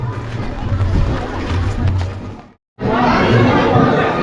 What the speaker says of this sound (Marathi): गर्दी भरपूर आहे आणि पूजा पण झाली वाटतं